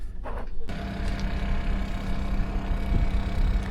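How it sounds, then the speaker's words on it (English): A generator runs steadily nearby at a harbor on Cuttyhunk Island, a constant low droning rumble with broadband mechanical noise, plus a brief rattling burst near the start. "You'll have to excuse the noise from a generator just upwind of us,"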